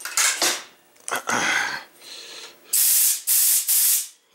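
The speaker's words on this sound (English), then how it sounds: "we now have compressed air" Compressed air hisses through an overnight solenoid valve in three strong, steady bursts near the end, each about half a second long, after some softer clatter and shuffling handling noises.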